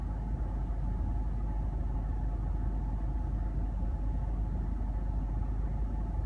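Ford F150 EcoBoost engine idling slightly rough, a deep continuous low rumble heard up close and steady, with a faint uneven pulse running underneath.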